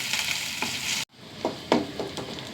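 Sliced small onions and curry leaves fry in hot oil, a close, bright sizzle with a few scraping stirs; a short cut drops the sound to near silence before the frying resumes.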